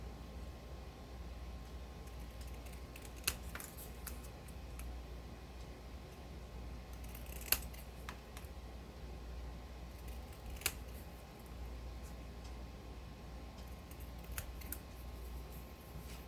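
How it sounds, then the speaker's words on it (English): Scissors snip and trim a Christmas ornament: a few faint, sparse, crisp clicks spaced seconds apart over a quiet, steady background hum. "So now I'm just going to snip these out and trim them out."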